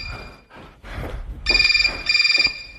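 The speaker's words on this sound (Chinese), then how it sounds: "我接个电话" A telephone rings twice in quick electronic trilling bursts after a brief stretch of room noise, loud and near with no one speaking.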